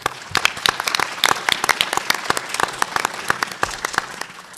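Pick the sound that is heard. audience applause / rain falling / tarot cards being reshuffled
audience applause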